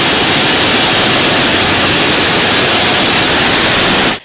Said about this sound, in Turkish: Kamuoyunda Atak 2 olarak bilinen ağır sınıf Taarus helikopterinin ilk kez motoru çalıştırıldı.